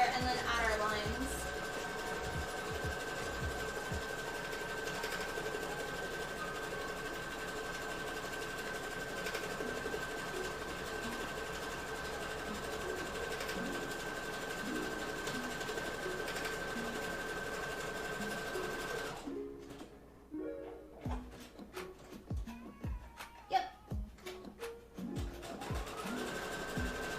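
A sewing machine stitches fabric pieces together for a Hinata cosplay from Naruto, running as a steady close whir for a long stretch before breaking into short stop-start bursts, with a person talking over it.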